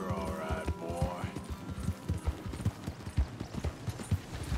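Galloping horse hooves in Red Dead Redemption 2 beat out a quick, uneven clip-clop close by, with a short neigh at the start and someone speaking over the first moments.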